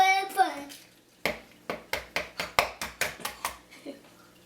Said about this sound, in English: now we need to crack our eggs into our softened butter and sugar here